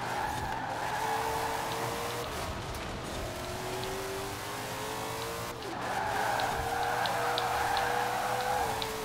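Long tire squeals from a Ford GT40 sliding sideways in Forza Horizon 4 rise and bend over a steady engine hum, with a brief break midway before the skid resumes louder.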